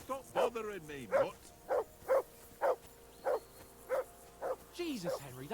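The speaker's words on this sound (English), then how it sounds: "Henry, that barking's driving me nuts." Dog in Kingdom Come Deliverance II barks repeatedly, roughly ten close, yappy barks in an uneven rhythm, with a brief whine among them, set against low in-game background sound.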